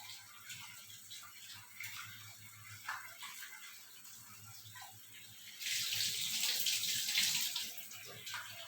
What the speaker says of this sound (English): Now I will show you how to wash the tur dal.